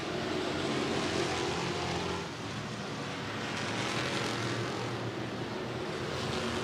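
Pure stock race cars roar around a racetrack in a feature race, a steady, loud, continuous engine drone that swells slightly, with no voices over it.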